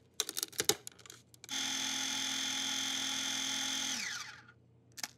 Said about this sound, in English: And I'll grind that with 1/2 cup of brown sugar.